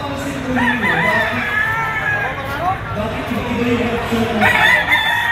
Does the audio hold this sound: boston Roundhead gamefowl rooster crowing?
yes